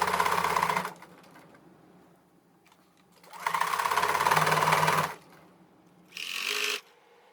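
A domestic sewing machine stitches a narrow rolled hem, running in three bursts: a long whirring run, a pause, a second long run, then a short final spurt, loud and close with no talk.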